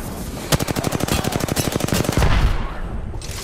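Rapid automatic gunfire from a firefight in the battle-royale game Apex Legends, a dense burst of close, loud shots in steady rhythm lasting about two seconds before tapering into quieter background noise.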